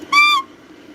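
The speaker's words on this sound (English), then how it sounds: "And then the horn or the whistle." A single short, clear electronic whistle tone from a model train sound box, lasting about a quarter second, bright and steady, followed by a faint background hum.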